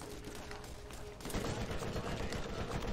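Sustained gunfire in Borderlands, a steady rattling barrage that thickens and grows louder partway through, with dense overlapping shots throughout.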